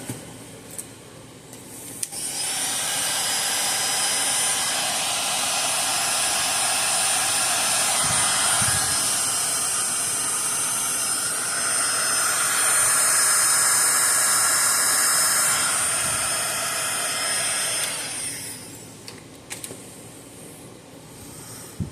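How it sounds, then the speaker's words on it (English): A heat gun shrinks heat-shrink tubing over a soldered wire joint while repairing a Zareba solar fence charger, giving a loud, steady blowing roar for roughly sixteen seconds before cutting off. "And then we'll heat shrink it."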